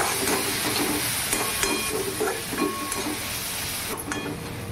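Tomatoes added to onion frying in a pan for kurdai bhaji, giving a steady close sizzle and hiss with occasional stirring clinks, no talk.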